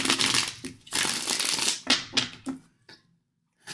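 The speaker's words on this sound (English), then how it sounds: "Let's shuffle." Tarot cards being shuffled in bursts of crisp riffling and rustling, several quick shuffles with brief pauses and then a short silence.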